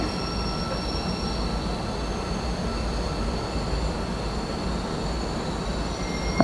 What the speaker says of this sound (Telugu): ట్రైన్ చూడండి వచ్చేసింది